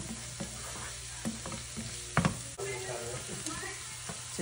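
Onions and spices fry in a pan for salmon curry, a steady close sizzle with scraping stirs and a couple of louder metallic knocks midway, while a low hum runs underneath.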